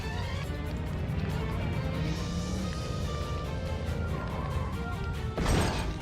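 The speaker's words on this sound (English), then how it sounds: "Car exploded because we got caught in that explosion damage on the way out." A car blows up in The Godfather Part 2 video game, a dense roaring crash of explosion noise filling the whole stretch, ending with a sharp burst near the end, no voices.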